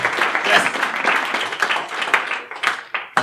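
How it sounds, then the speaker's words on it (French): An audience applauds as a guest speaker is introduced at a talk, a moderately loud, uneven burst of clapping that fades and returns in ragged patches, with a few sharp claps standing out near the end. "Un tonnerre d'applaudissements pour Johan."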